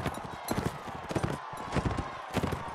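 Horse hooves galloping in the Mount & Blade: Warband video game, a rhythmic series of clip-clop thuds in quick groups, fairly loud and close, with faint background noise and no clear talk.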